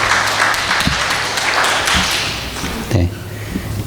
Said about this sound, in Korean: 우리 수고하신 목사님과 우리 아이들에게 격려의 박수 한번 부탁드리겠습니다.